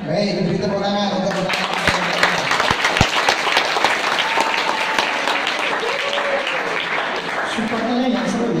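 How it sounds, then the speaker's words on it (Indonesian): An audience applauds supporters at a religious debate, with broad crowd clapping running under a speaker's voice, which carries on through most of the stretch. "beri tepuk tangan untuk"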